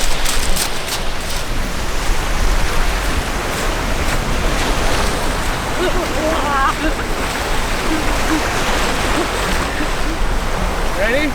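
Arctic Ocean waves wash steadily onto the shore in a constant, loud roar of surf with wind noise, with faint voices briefly in the background.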